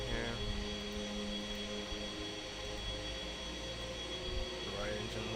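A spaceship's left engine starting up in the Star Citizen video game, a steady droning turbine hum with a rising whine at the start and near the end, under a low voice.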